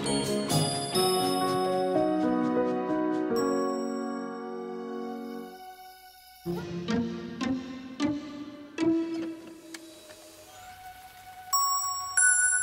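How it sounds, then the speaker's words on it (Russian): Rain in a children's animal cartoon, rendered as bright tinkling, chime-like plinks and dripping notes over a gentle musical backing, with a short pause before sparser drops resume. "Дождик идет."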